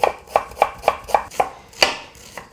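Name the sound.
knife chopping an onion into small cubes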